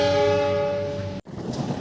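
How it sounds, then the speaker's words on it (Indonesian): The Argo Cirebon train sounds a loud, sustained horn at a station as it prepares to depart, a rich harmonic blast that cuts off abruptly, followed by rumbling rail noise. "Ini persiapan kereta api Argo Cirebon berangkat kembali."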